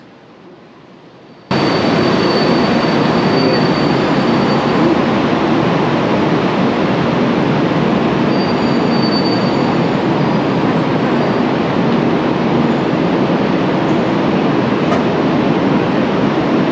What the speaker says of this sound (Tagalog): first time kasi naming sasakay ng speed train dito sa Taiwan